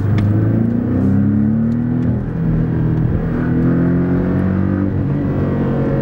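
Porsche four-cylinder engine accelerating hard after the sport button is pressed, a loud, steady drone with rising harmonics as revs climb across several gear pulls, heard from inside the car at a driving event.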